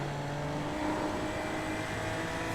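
Super Formula Lights race car engine in iRacing at Imola, a steady loud drone holding high revs under power through the run, with no talk.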